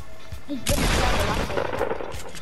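A pump shotgun blast in a video game, one broad heavy boom that erupts suddenly and then trails into a noisy rumbling decay, loud and close, preceded by a faint voice.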